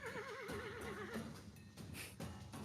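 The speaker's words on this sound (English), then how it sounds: "I hear the horse." A horse lets out a loud, wavering whinny near the start, followed by snorts and clip-clopping hooves. There is no talking.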